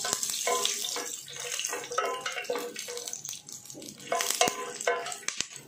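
A spoon scrapes and clinks through chicken kadai curry in a pan just after black pepper goes in, a wet, frying stir with irregular metallic taps over a steady sizzle.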